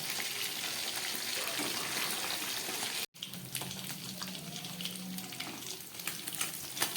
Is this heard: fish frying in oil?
yes